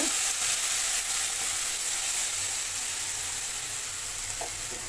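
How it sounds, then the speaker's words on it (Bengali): Turmeric and chili powder paste sizzles loudly in a pan with crab, a continuous close hiss of frying that eases off slightly toward the end, with a few faint stirring knocks. "হলুদ গুঁড়ো লঙ্কা গুঁড়ো মিক্স করে গুলিয়ে নিয়েছি পেস্টটা এখন ছেড়ে দিচ্ছি"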